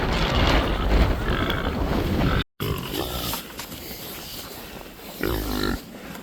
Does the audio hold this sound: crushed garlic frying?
no